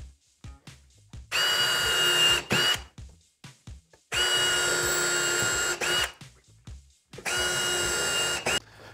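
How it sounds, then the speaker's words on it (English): An Ozito cordless drill with a 3mm bit bores pilot holes into wood in three loud, steady bursts of whirring, with short quiet pauses and light handling noises between them. "you want to drill pilot holes"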